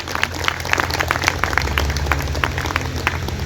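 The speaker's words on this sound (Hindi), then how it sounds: "अपने लिए तालियां जरूर वो बजाएं" An audience at the annual festival of Divya Darshan Bhawan in Palavpuram, Meerut, claps in welcome, a steady patter of individual hand claps over a low, constant room hum.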